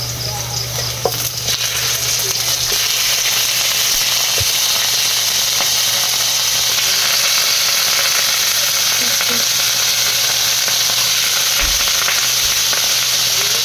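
Chicken pieces frying in a hot pan with onion, giving a loud, steady, continuous sizzle close up, with occasional faint clicks of a utensil and no talk.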